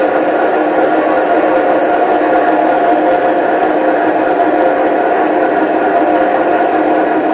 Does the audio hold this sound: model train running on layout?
yes